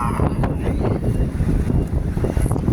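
Strong gusty sandstorm wind buffets the microphone in heavy low rumbles, loud and continuous with uneven bursts.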